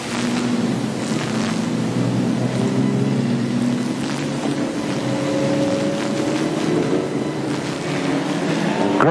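Junior sedan race cars at Maryborough Speedway roaring off at the start of a final, a loud continuous engine drone with rising pitches as they accelerate together, no voices.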